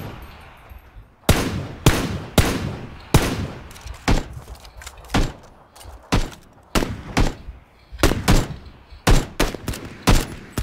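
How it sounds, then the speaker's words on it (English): Gunshots crack out in PUBG, including SKS fire, in sharp separate reports and quick clusters over roughly ten seconds, loud and close with quiet gaps between. "Guns blazing already?"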